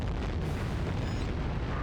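A grenade blast in the 007 Everything or Nothing video game: a loud, dense roar of explosive rumble that holds steady across the moment, close and heavy, with no voices over it.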